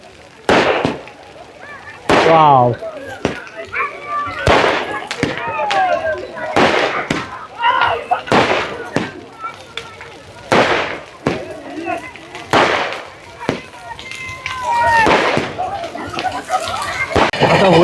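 Firecrackers burst around a burning Holi bonfire in a village at midnight: a long string of sharp, loud, close bangs at irregular intervals, while people talk and exclaim over them.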